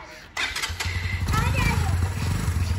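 A new motorcycle's engine fires up abruptly, then runs at a steady, close idle rumble while people talk over it.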